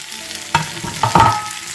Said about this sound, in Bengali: পেঁয়াজ কুচি দিয়ে পেঁয়াজটাকে ভালো করে লাল লাল করে ভাজবো।